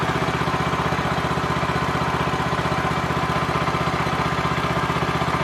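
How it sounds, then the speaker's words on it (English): A Kawasaki engine idles on a Gravely 5200 tractor, a steady, even, smooth-running putter held at close range for the whole stretch, with no talking over it. "Boy, is that a smooth, quiet running motor."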